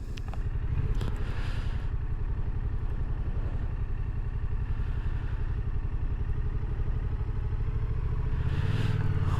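A Yamaha XSR700 motorcycle rides through Dublin with a continuous, steady mid-pitched engine drone and rumble heard from the rider's position, mixed with wind and road noise and a brief clatter near the end.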